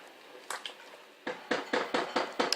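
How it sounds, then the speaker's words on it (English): A spoon stirring salsa seasoned with black pepper in a pot, with a few quiet scrapes followed by a steady run of close, clinking knocks against the pot, and no talking. "Just a good grind of black pepper. I'm just going to stir that up."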